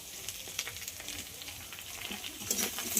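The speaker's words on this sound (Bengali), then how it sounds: "শিম ও আলুর সঙ্গে খুব ভালো করে ভেজে নিতে হবে" Beans and potatoes frying together in a pan, a soft steady sizzle with faint stirring scrapes, fairly quiet and without voices.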